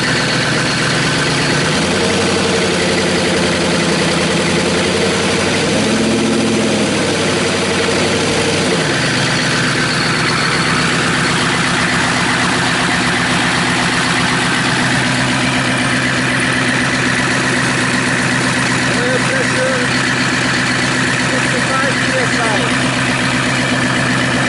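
A rebuilt Chevy/GMC 6.5L turbo diesel engine idles steadily on a stand, a loud, constant low rumble with a faint wobble that carries on throughout.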